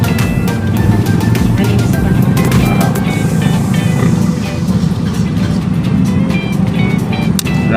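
A small motor keeps running steadily and loudly after starting, a dense continuous rumble with rattling clicks layered on top and no break throughout, outdoors in hot weather.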